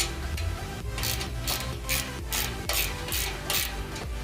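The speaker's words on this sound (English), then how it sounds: "you'll get your 8mm on there and start to loosen up the motor" Ratcheting clicks of an 8mm wrench working loose the active exhaust flap motor on a Dodge Hellcat, a steady run of close, repeated metallic ticks in short bursts with no talk.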